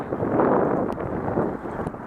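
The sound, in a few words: strong wind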